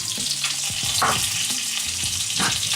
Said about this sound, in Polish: Niech się migdały troszeczkę podprażą, niech cytrynka też pochodzi na ogniu.